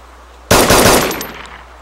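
Gunfire in the video game DayZ Standalone during a fight in Cherno: a sudden loud burst of rapid shots starts after a short quiet lead-in, then trails off into a decaying echo.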